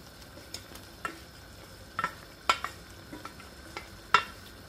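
Salt cod being mixed with onions in a pan, giving a quiet background of light scraping and occasional sharp utensil clicks and taps spread irregularly through the stir, with no voices.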